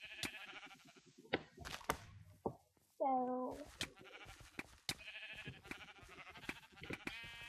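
A single short sheep bleat sounds out clearly in a video game amid game clicks and chopping noises, with brief speech nearby.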